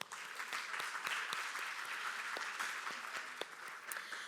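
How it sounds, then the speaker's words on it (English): An audience at a business and tourism conference panel claps steadily, a dense patter of many hands heard from a distance at low volume throughout. "Let's give them a round of applause."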